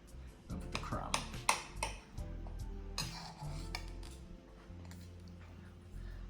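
A knife cuts through a dense, bouncy cake on a plate, giving clinks and scrapes of cutlery and dishes in short bursts, with a voice talking quietly in the background.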